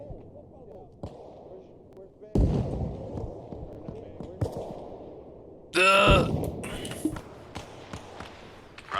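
Frag grenade blasts in the military shooter Arma Reforger: a sharp loud explosion partway through, then a second burst with crackling debris, amid scattered thuds and quiet background game noise.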